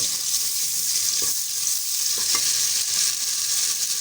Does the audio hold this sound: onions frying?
yes